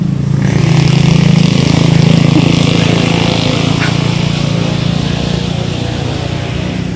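A loud motorcycle engine drones close by on a hillside road near Tanjung Tokong toward Batu Ferringhi in Penang, a strong steady roar that holds throughout and swells slightly early on.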